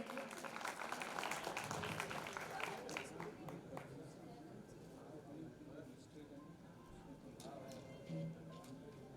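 A crowd at an Indian community awards ceremony applauds the district president of a Dhakad society association, dense clapping that is strongest at the start and gradually thins into scattered claps and murmuring.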